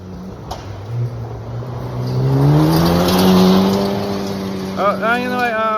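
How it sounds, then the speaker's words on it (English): Race cars roar past close by, engine pitch rising then falling, with a faint rattle of rocks bouncing off the exhausts underneath and a brief sharp whine at the end. "a lot of cars, we can hear the rocks bouncing off the exhaust"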